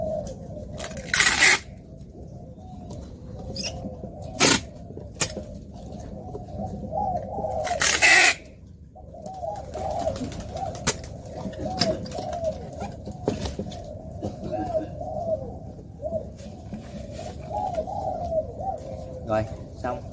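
Captive doves or pigeons coo repeatedly in a low, steady rhythm, close by, with a few sharp clattering bursts from cage handling or wings and brief indistinct background voices.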